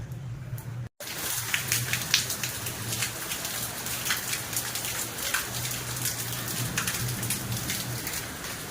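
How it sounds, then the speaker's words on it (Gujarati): Heavy, fast rain pours down steadily and close by, a dense hiss of drops striking surfaces with no voices, broken only by a brief dropout near the start. "એકદમ ફાસ્ટ વરસાદ ચાલુ થઈ ગયો છે"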